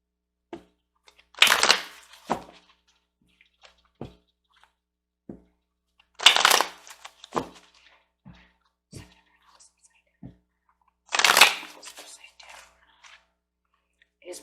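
An oracle card deck being shuffled in three short bursts about five seconds apart, each a crisp riffling flutter, with soft taps and clicks of the cards in the quiet gaps.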